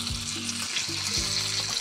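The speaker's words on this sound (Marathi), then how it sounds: "फोडणी देऊन घेते." A tempering sizzling in hot oil, a bright constant crackle with spitting pops, with a low humming drone that drops out and restarts twice underneath, no voices.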